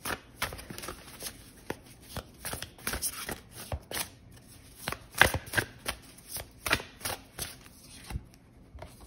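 Oracle cards shuffled and drawn from a deck, with a string of quick, soft riffles and papery slaps in an uneven rhythm, close and fairly quiet, and no talking.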